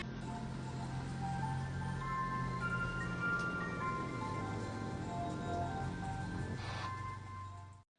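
An ice cream truck's melody plays loud and steady at night, a continuous tinkling tune with a low engine hum beneath, fading out at the very end.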